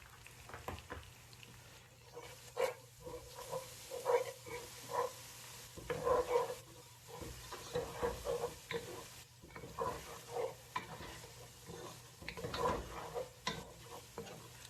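Garlic and ginger paste frying in a pan with a little water, a soft sizzle under irregular stirring scrapes, fairly quiet and steady.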